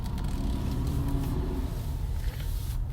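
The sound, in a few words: dump truck passing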